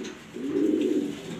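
A black exhibition pigeon in a loft gives a single close, clear low coo that swells in the middle and then fades, with no other sounds around it.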